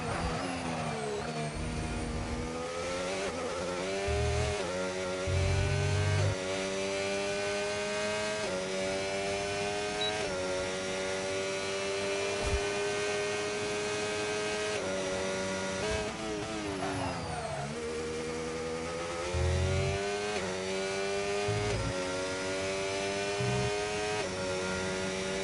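Formula 1 cars in a video game league race at Brazil roar at a continuous high rev, engine pitch climbing and dropping through gear shifts and corners, steady and loud for the whole stretch, with no voices.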